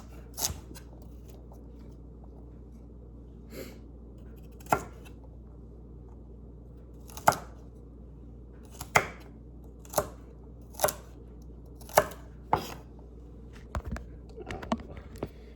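A knife halves vegetable pieces for cheeseburger soup on a cutting board, making about a dozen sharp, spaced chopping knocks. They are irregular at first, then come more regularly and close together toward the end, with quiet in between.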